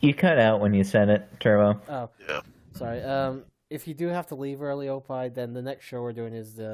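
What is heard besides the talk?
No everyday noise stands out behind the speech.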